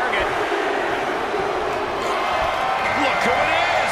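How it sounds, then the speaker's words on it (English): A dense, steady crowd roar fills a wrestling arena in the WWE 2K24 video game, loud and continuous with faint bursts of cheering throughout. "just listen to the crowd"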